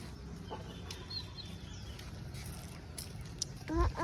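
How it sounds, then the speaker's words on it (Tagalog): Native chickens cluck softly at a distance on a rural Filipino property, a few faint calls over a low steady background hum. "Native na chicken."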